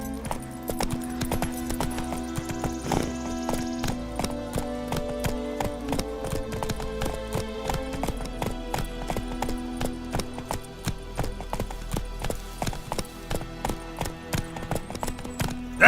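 Hooves of Geralt's horse Roach in the game The Witcher 3 clip-clop in a steady trotting rhythm, close and moderately loud over soft game music and ambience.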